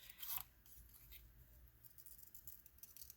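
Scissors snip through paper pages while a first book nook is being assembled, a sharp crisp cut near the start followed by softer steady rustling and small snipping sounds, close and fairly quiet with no talking.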